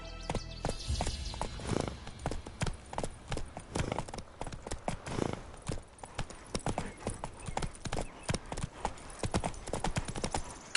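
Roach, the horse in The Witcher 3: Wild Hunt, clip-clops along at a brisk gait, dense loud hoofbeats packed close together and continuing without a break, with a faint snort near the start.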